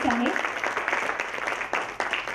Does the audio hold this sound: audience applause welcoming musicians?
yes